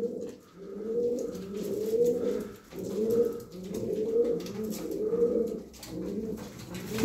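Blue pigeons coo in repeated low, rolling phrases with short pauses between them, close and moderately loud, with no talking.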